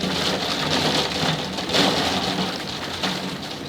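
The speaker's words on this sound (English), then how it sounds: "Can you guys hear that rain?" Steady rain pours outdoors, a dense continuous hiss of drops striking surfaces, loud and even throughout with slight swells, no voices.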